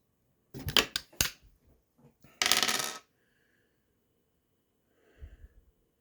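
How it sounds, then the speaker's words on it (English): Dice clatter in a few quick rattling bursts, then a longer tumbling roll settles, followed by a faint short shuffle, all close and quiet in an otherwise still room. "But we're going to roll the dice now."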